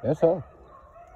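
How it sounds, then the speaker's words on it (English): Outdoors during a spring dog run, a chicken gives a short, faint crow in the distance: two quick rising-and-falling calls at the start, with a voice speaking over them, then quiet outdoor background. "I just heard a chicken."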